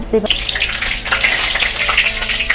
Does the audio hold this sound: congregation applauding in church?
no